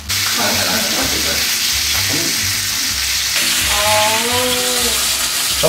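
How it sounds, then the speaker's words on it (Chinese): A rack of lamb sears in a hot pan with a loud, continuous sizzle close at hand. A brief voice rises faintly behind the frying. "跟住煎個面"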